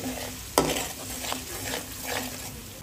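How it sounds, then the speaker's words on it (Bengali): Chili chicken being stirred in a hot pan, with a sharp clack of the spoon against the pan followed by steady sizzling and soft scraping strokes, close by and without talk. "এটা নাড়াচাড়া দিয়ে নিচ্ছে একটু ভালো করে, দেখেন"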